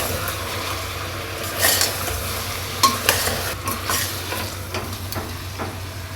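Chicken pieces with chilli, cumin and turmeric powder stirred in a pan, scraping strokes and soft sizzling over a steady low hum, with a few louder clanks of the spoon on the pan.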